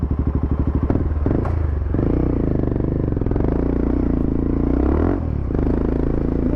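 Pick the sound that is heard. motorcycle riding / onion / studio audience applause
motorcycle riding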